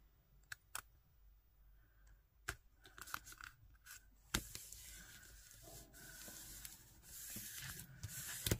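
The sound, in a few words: cutting excess paper with scissors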